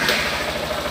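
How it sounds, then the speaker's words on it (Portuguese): A 2015 Honda NXR 160 Bros ESD motorcycle engine idles with a steady low, even throb, close and loud, no voices. "E agora bota a moto para funcionar"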